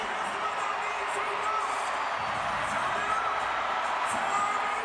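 Sellout crowd of 17,460 in an Atlanta arena at an NBA Southeast Division game between the Hawks and Charlotte Hornets, a steady roar of cheering and whooping that stays loud and dense throughout.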